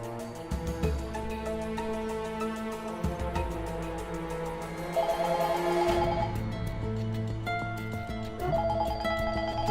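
A telephone ringing in repeated electronic tones over a steady musical background, fairly loud and close.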